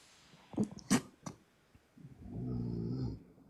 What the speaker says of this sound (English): Who is snoring?